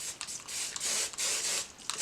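Aussie Headstrong volume hairspray sprayed onto curly hair being straightened, several close hissing bursts of mist in quick succession with short gaps between them.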